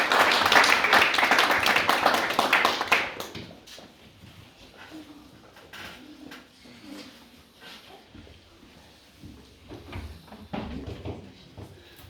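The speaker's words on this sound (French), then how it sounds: "Demandez qu'on applaudisse, s'il vous plaît." A congregation at a Baptist church applauds loudly for about three seconds, then the clapping drops away to a quieter room with scattered small noises and movement.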